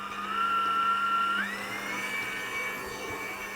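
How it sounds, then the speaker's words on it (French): A stand mixer creams butter with red-wine caramelized shallots, giving a steady, fairly quiet motor whir with a slight shift in pitch partway through. The hum runs continuously, with no speech. "J'ai remis au batteur avec les échalotes caramélisées au vin rouge."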